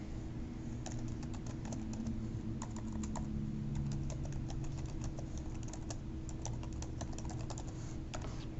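Fingers tap quickly on a computer keyboard, a steady run of light, close key clicks with brief pauses over a low background hum.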